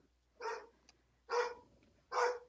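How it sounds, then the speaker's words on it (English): A pet dog barks three times in a quiet indoor room after the doorbell rings, each short bark spaced apart and moderately close. "Please don't mind my dog."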